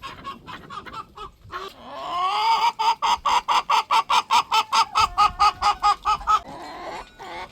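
A hen clucks in a rapid, even run of about a dozen sharp calls on a farm where Maremma puppies live among chickens, preceded by softer scattered clucks and fading at the end, loud and close.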